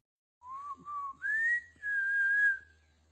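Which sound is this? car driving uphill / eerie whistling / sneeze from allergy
eerie whistling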